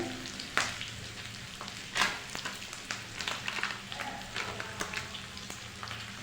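Eggs sizzle steadily in a hot pan over a medium-low gas flame nearby, with occasional crackles and a couple of light scraping taps.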